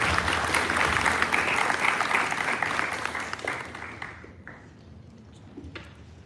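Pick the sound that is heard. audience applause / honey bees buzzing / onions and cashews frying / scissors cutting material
audience applause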